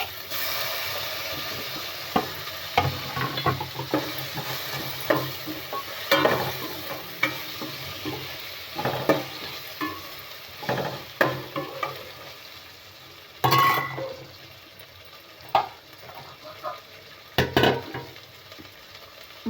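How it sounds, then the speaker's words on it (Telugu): Tomato pieces and onions frying together in a pan for a dried prawn tomato curry, a steady close sizzle with repeated scraping stirs and occasional clinks of a spoon against the pan. "ఉల్లిపాయలు బాగా వేగిన తర్వాత టమాటా ముక్కలు వేసుకోవాలి"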